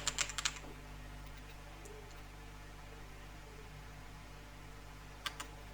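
A short burst of computer keyboard typing while entering code, a quick cluster of key clicks at the start and a couple more near the end, with steady fan-like hum in between.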